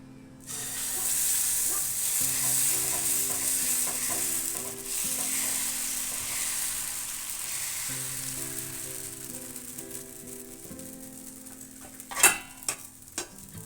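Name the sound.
dosa batter sizzling on an iron griddle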